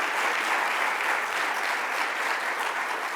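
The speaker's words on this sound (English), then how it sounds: "let's give another round of applause to our district attorney" An audience at a governor's public event on the Hurricane Sandy anniversary gives a round of applause, a dense, even wash of clapping that holds steady without voices.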